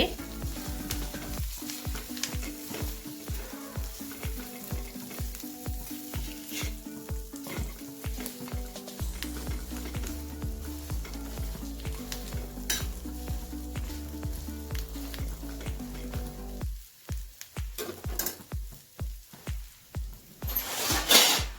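Pav bread rolls heat in a pan with masala, a steady frying sizzle broken by repeated scraping and stirring taps, fairly quiet, with a louder clatter of utensil strokes near the end and no talk.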